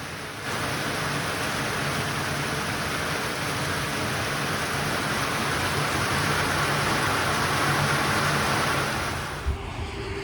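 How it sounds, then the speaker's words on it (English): Steady, dense rain falls throughout, heard from under a pavilion along a Florida trail near Lake Okeechobee, a constant loud hiss with no voices. "I waited out the rain"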